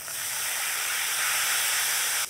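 Spice paste and turmeric over reddened onions sizzling in a pan as a little water is splashed in for Bengali tel koi, a steady loud hiss and steam spray lasting the whole moment without talk.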